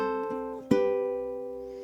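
Ukulele fingerpicking pattern: a few plucked notes, then a quick strum that rings out into sustained, clear tones, played close and softly with no voices.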